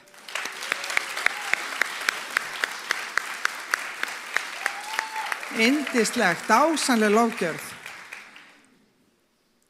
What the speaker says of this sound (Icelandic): Ef ekki að gefa þeim gott klapp.